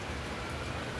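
Steady rain falling in Jeddah, a dense, even wash of patter and hiss with no breaks, fairly soft and close.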